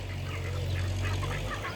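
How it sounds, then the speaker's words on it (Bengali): White Peking ducks kept as backyard poultry call in a continuous low, nasal honking chorus close by, filling the short stretch without pause and with no talk over it. "সাদাগুলো হচ্ছে বেইজিং হাঁস"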